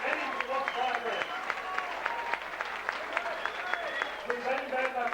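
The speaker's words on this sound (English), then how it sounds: "Come on, give Hussein a big round of applause." Steady crowd applause for boxer Hussein after a boxing bout, with dense clapping and cheering running the whole time and voices mixed in.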